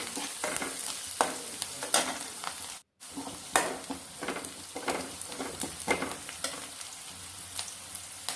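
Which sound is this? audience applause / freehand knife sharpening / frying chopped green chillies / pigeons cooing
frying chopped green chillies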